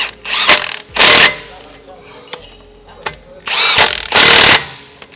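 A power tool, likely an impact gun, runs down the top nuts on an Iveco 4x4 brake upgrade kit in a series of loud, close bursts of a second or less, separated by quieter pauses.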